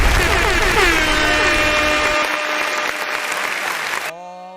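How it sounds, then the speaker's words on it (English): A canned applause sound effect is played on a live radio show: dense, loud clapping and cheering with a horn-like tone underneath, cutting off abruptly near the end as a voice speaks. "Let me hit some applause."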